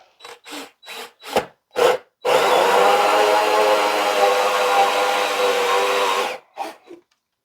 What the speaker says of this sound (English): let's go ahead and drill 2 holes right here